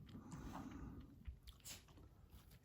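Someone bites into loaded cauliflower potato salad, producing a faint, close, soft crunch followed by quiet chewing, with no talking.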